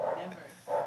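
A dog gives two short barks, one at the start and one at the end, faint under ongoing conversation on a podcast.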